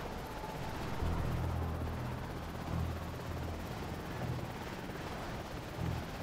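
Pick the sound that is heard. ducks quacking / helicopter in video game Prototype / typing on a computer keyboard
helicopter in video game Prototype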